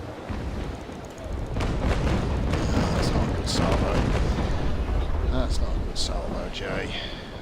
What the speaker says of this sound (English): That's okay, I can play with my carronades.